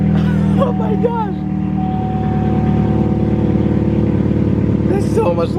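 A Pontiac G5 engine idles loud and steady after a ZZP 2.5-inch downpipe install, a deep continuous drone throughout with brief voices speaking over it near the start and end.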